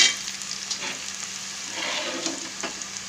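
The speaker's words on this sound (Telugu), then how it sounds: "ఇప్పుడు ఈ కూరని ఇందులో వేసుకుని మళ్ళీ ఫ్రై చేసుకుందాం" Curry frying and sizzling in a pan, a dense continuous hiss close by with occasional stirring scrapes, no voices.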